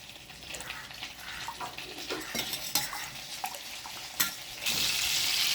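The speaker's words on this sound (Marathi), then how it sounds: "हा घट्ट झाला आता याच्यात थोडंसं पाणी टाकावं लागेल" Water is poured into a pan of thickened tomato soup with butter, a soft scraping stir giving way to a steady rushing pour near the end, close and fairly quiet.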